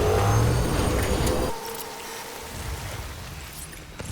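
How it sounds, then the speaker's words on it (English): A trike in the Death Stranding video game barrels along a highway, a loud whirring motor drone that drops to a lower, quieter hum halfway through. "The whir of your trike barreling along the highway"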